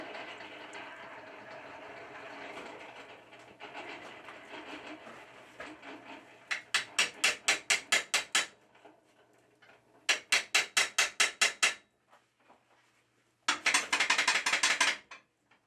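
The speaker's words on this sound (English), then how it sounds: "the end of the bar with a hammer and driving the small bar into the large bar right in the fire" A hammer drives a small bar into a large bar inside a forge fire to set a forge weld, ringing out in three quick bursts of sharp metallic blows after a stretch of low rumbling forge noise.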